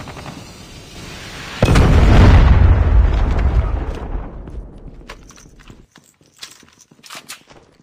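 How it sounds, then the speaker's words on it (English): A Predator missile strike lands in the Call of Duty Mobile shooter game, one sudden loud boom that rolls into a long rumbling decay, followed by faint scattered game clicks. "Friendly Predator missile inbound."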